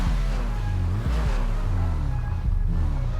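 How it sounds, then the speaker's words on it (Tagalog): Lowered luxury car engine in GTA 5 revving loudly and continuously, a deep throaty roar with rising and falling pitch sweeps and brief throttle blips, close and dominant with no talk. "Papasoundcheck muna natin itong sasakyan na ito."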